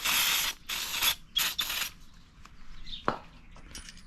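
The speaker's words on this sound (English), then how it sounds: "Now we're gonna go in there with some contact cleaner and make sure everything's really clean." Contact cleaner sprayed in several hissing bursts around the countershaft seal area of a Suzuki DRZ400 motorcycle, close and loud, followed by a sharp tool click and quieter handling noises.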